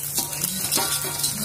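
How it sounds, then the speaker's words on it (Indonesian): Eggs frying in a pan while making Indonesian fried rice, a steady close sizzle with faint crackles running throughout the short stretch. "Sekarang kita goreng telur ya."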